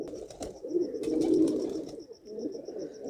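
Pigeons cooing softly in low, rolling calls, close by, with faint chirps in the background.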